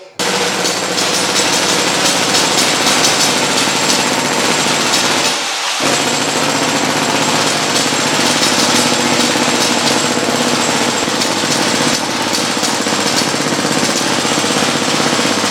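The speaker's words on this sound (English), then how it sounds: "We have operating drills. This is a drill." A mining drill hammers continuously at close range, loud and steady, with a brief drop in the noise partway through before it resumes.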